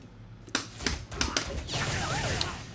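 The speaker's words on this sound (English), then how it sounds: "Stop typing in the chat room." Rapid clacking of keys on a keyboard, a series of sharp taps followed by a denser run of typing, close and fairly loud.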